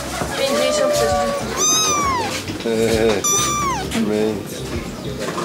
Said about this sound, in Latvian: kaķītis